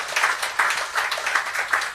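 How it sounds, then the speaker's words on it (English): A small audience applauding Pandit Satyanandji at a Navaratri temple yagna session, with uneven bursts of hand claps rising and falling, moderately close, and no talk over it. "Let us all please give him a round of applause."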